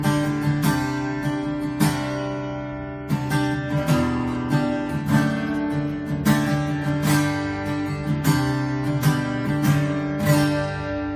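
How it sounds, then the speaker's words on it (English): A Taylor 814ce acoustic guitar is strummed and picked unplugged, close and clear, with rhythmic chord strokes and bright string attacks over about eleven seconds and no voices. "this is the sound of the guitar unplugged."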